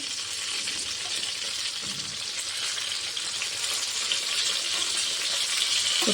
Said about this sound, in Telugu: సో చూసారా అబ్బా ఎంత బాగా ఫ్రై అవుతుందో